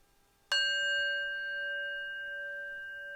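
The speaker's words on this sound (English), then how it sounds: "with the sound of the gong, we begin to gently reawaken the body." A single gong strike closes a yoga relaxation, ringing out clearly with a bright metallic attack, then a long, steady shimmering tone that sustains and slowly fades over a quiet room.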